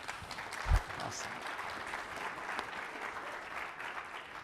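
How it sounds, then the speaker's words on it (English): An audience at a corporate presentation claps in a sustained, even patter of applause, fairly distant and soft, with a brief louder thump early on. "Was that applause for me coming on or him going off?"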